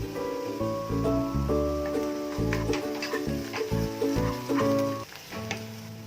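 Onions frying with ginger garlic paste in a pan for an egg, mushroom and shallot curry, a steady sizzle running under prominent tonal background music for the whole stretch.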